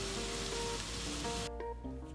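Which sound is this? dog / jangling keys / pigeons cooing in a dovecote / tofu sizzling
tofu sizzling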